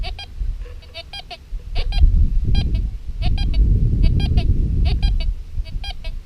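Repeating electronic beeps from a Fisher F19 metal detector pulse in short clustered bursts over a low rumbling background at a beach, a warbling signal tone sounding again and again.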